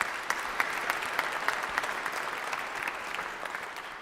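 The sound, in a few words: audience applause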